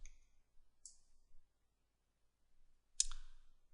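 A computer mouse clicking to start a cyclic voltammetry run in eDAQ EChem potentiostat software, with a few faint, crisp clicks spaced apart in near silence, the last click the sharpest.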